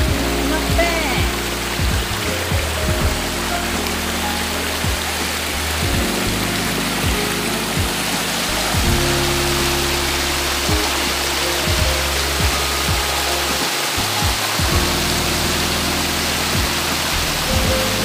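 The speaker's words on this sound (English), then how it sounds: "Small waterfall, but it's okay." A small waterfall and stream at PinPin Waterfall in Phuket give a steady, dense rush of falling and flowing water, close and continuous, with faint low rumbles beneath and no clear talk.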